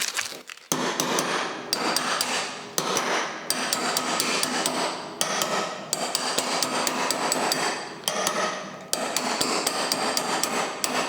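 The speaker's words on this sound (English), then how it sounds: "That's when I give a little tap rearward, swirling the quarter panel back, opening that gap up to a consistent 1/4 inch" Body hammer tapping the quarter panel of a 1974 Dodge Charger, a series of sharp, ringing metallic blows in close, loud bursts separated by short pauses, with no voices.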